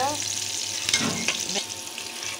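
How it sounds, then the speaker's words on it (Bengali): Onions frying in hot oil for a boal fish curry make a dense, even sizzle up close, with a brief stirring scrape in the middle and no voices. "প্রথমে তেলের মধ্যে পেঁয়াজ দিলাম, এগুলা আগে লাল লাল করে ভেজে নেব।"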